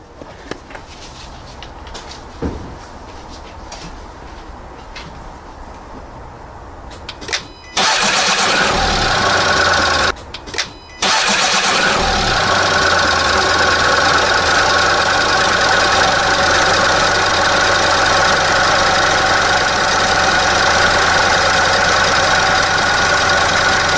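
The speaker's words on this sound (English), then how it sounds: "just run the engine a little bit and then let it settle" A Mercedes B-Class CDI diesel engine cranks briefly, catches, stalls for a moment, then starts again and settles into a loud, steady idle that runs on alone.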